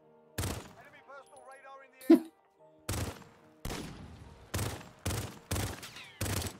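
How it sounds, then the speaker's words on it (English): Gunfire in a video game, aimed at a wheel: a series of sharp, loud shots spaced roughly half a second to a second apart, with short tonal game sounds and a brief voice in between. "you're shooting that wheel"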